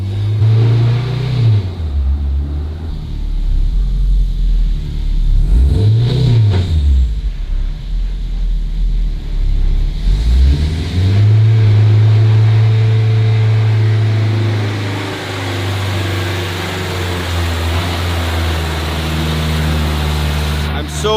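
A 600 hp K24 turbocharged Honda Civic race car with a new manual gearbox pulls hard in third gear, engine note rising in repeated sweeps with brief drops at shifts, loud and close from inside the cabin.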